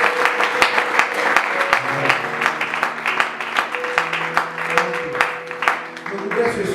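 Audience at a church youth evangelism conference applauding: continuous crowd clapping with cheering voices and a sustained musical tone underneath, steady and fairly loud throughout.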